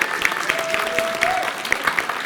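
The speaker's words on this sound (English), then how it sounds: "Please give yourselves a round of applause." A convention audience at a game design panel during PAX Unplugged 2019 applauds, producing moderate, somewhat sparse clapping with distinct individual claps in a large room, heard from a distance and lasting the whole stretch.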